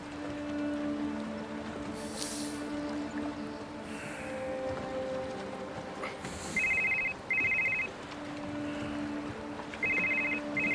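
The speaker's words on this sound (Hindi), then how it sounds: "अरे ये फोन उठाना पड़ेगा।" A phone rings faintly in short double bursts, twice early on and again near the end, over a steady low background hum.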